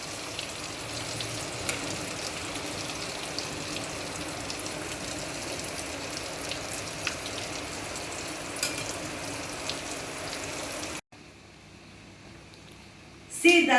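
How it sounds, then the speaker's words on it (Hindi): An egg frying in oil in a pan, with a steady loud sizzle and crackle that runs on for about eleven seconds, then drops to quiet with a couple of faint clinks at the end. "थोड़ा सा ऑयल स्कूप कर दें ताकि चारों तरफ से वो कुक हो रहा हो"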